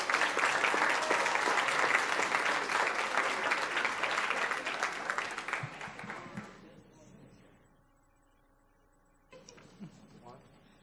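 A crowd at a school board meeting claps enthusiastically for several seconds, the applause gradually fading to quiet, then faint room noise and movement return.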